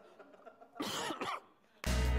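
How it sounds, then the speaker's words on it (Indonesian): Two or three harsh bursts from a person coughing and clearing the throat, loud and close, followed after a short pause by a louder muffled thump or blast of noise. "Gue mau batuk nih"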